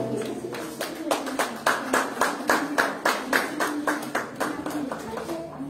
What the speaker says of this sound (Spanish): fuertes aplausos a Eddie Brandon Carmelo Montejo.